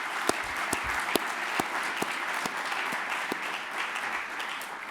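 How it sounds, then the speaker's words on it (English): Audience at an angel investing pitch contest applauds the four competing businesses, with sustained close crowd clapping at an even level throughout. "let's give all 4 businesses a round of applause"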